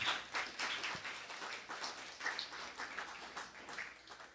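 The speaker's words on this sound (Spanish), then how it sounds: "démosle un aplauso a nuestro Dios" A church congregation applauds God during a service, producing a steady, dense patter of many hands clapping that sustains evenly throughout without any voices.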